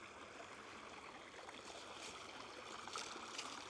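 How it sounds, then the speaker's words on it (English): A freshwater stream runs around an outdoor apiary, giving a steady, faint rushing and trickling flow with no breaks. "They've got a fresh water supply that runs all the way around the apiary."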